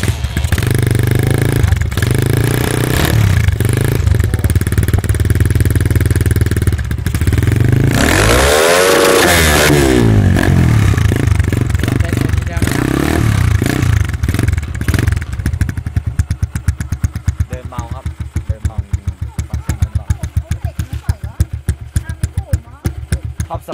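A modified Honda Sonic 125 motorcycle with a split exhaust pipe revs loudly and close by, its engine rising in repeated throttle blips over a rough, steady drone, with a faint voice now and then.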